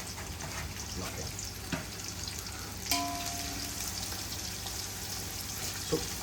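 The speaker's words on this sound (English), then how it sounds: "let's get these onions into a golden brown color, but please be careful, it should not burn" About 800 grams of cut onions frying in hot oil in a pan for a homemade biryani, a soft continuous sizzle with occasional faint clinks of a stirring utensil.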